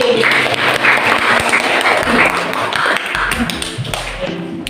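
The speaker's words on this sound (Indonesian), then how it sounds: "Tepuk tangannya dulu." Students in a classroom clap their hands together: loud, brisk clapping with tapping and thumps, fairly close, with a few faint voices mixed in.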